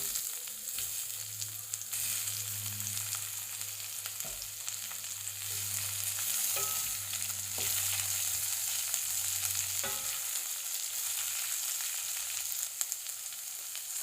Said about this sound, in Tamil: இப்போ நம்ம கட் பண்ணி வச்சிருக்கிற கேப்சிகம் போடலாம்.